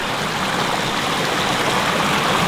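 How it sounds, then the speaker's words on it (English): A small brook-trout stream with a little waterfall pouring in: a steady, close, even rush and babble of flowing water fills the whole stretch, with no voices. "A little waterfall coming in, some slow water."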